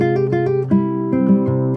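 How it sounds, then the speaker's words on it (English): Solo acoustic guitar plays a finished C section: clear plucked notes ringing close and loud, a quick run of picked notes followed by sustained resonant chords. "So the finished C part sounds like this."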